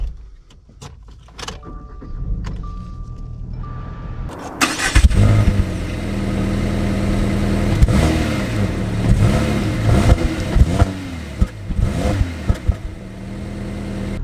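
A 2021 Subaru Impreza hatchback starts up after a few faint clicks and mechanical sounds, then drives off with a steady engine hum and rising revs as it gets underway.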